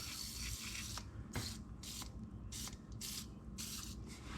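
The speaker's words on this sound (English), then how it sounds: "Little PB blaster." PB Blaster penetrating oil sprays in several short bursts onto rear brake parts of a 2012 Mazda 3, quiet hissing puffs separated by brief pauses amid faint mechanical rattles.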